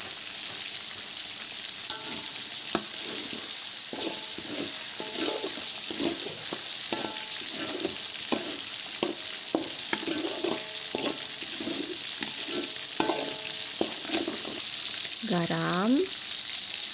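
Steady loud sizzling of sambal frying in hot oil, broken by regular scraping clinks of a spatula stirring the pan, with a short squeaky sound near the end.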